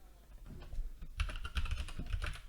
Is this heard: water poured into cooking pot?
no